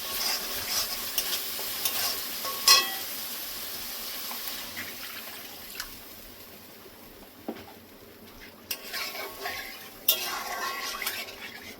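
Egg curry masala in a pan sizzling and bubbling softly after water is poured in, with scattered stirring and utensil clinks over a steady low hiss.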